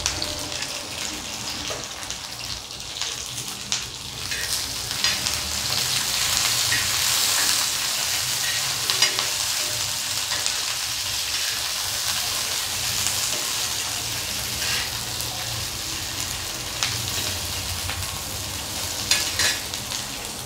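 Green chillies and peanuts fry in hot oil in a pan for a steady, close crackling sizzle, with occasional stirring scrapes and pops throughout.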